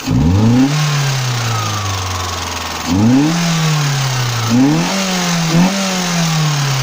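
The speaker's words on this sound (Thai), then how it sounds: "แล้วก็มีเร่งเครื่องช่วยหน่อยนึง" A Mitsubishi car engine is revved while its cooling system is flushed of rust. Several blips rise from a steady idle and then settle back, loud and close, with no talk over them.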